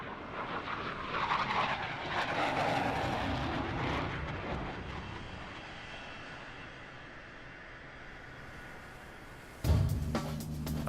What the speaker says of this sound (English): these FA-18 pilots can't rest until they bring their aircraft safely to a stop